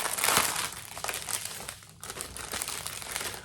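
Plastic bags of diamond painting drills are handled and pulled out one after another, producing continuous close crinkling and rustling with a brief lull in the middle.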